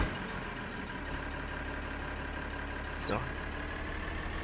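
Several tractors idle in the farming game Farming Simulator 2013. A low, steady engine drone runs throughout at moderate level, someone speaks briefly, and a short sweeping tone cuts in near the end.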